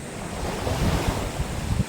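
Sea waves wash against a rocky seashore in a steady, close roar, with wind noise buffeting the microphone throughout.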